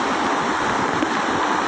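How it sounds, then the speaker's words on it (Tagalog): Sea waves on Manila Bay near Navotas, a steady broadband wash of surf and moving water, close and continuous without breaks, no voices. "buti po medyo himina-hina yung alon"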